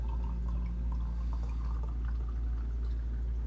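Barrel-aged New Trail coffee beer, a 2019 Moonlit stout, poured hard into a glass, giving a steady close splashing glug with faint fizzing and drips throughout, no talking.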